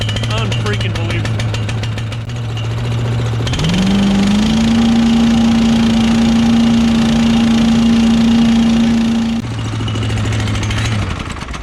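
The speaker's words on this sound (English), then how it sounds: "fuel is on, choke is on, first pull of 2021" A Cyclone Rake leaf vacuum's small engine, started on choke after sitting since last season, catches on the first pull and settles into a loud, steady running drone that later drops back to a lower idle, with someone talking nearby.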